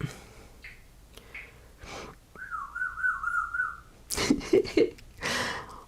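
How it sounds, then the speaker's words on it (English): Crichton, a pet bird, lets out a wavering, warbling whistle held for over a second, with a few short chirps and snorty breaths around it, close and fairly soft in a quiet room. "He is whistling like crazy."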